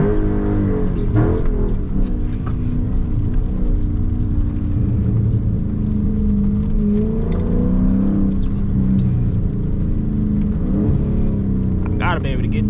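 A Dodge Charger Scat Pack drifts through turns in the rain, its engine rumbling and swelling in revs from inside the cabin while someone talks over it throughout.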